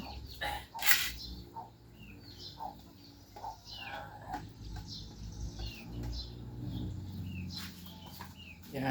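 Pet chickens cluck in short, scattered bursts during feeding outdoors, mixed with a few higher bird calls and rustling over a steady low background.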